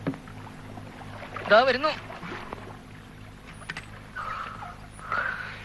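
The five o'clock passenger boat pulls away across the water, a low, faint engine hum under the scene, while someone speaks briefly nearby and soft splashing and wind drift in toward the end.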